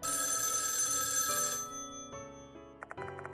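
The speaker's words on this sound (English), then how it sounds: "As soon as I arrive at the mansion, the phone rings." A telephone rings in a late-night mansion in Spirit Hunter: Death Mark II, its electronic bell tones sounding over ambient music before a few short repeating ring pulses at the end.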